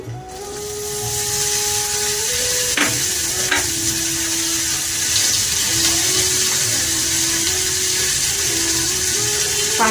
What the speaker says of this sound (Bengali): প্রথমে আমি দেবো পাঁচ ফোড়ন স্প্রিং অনিয়ন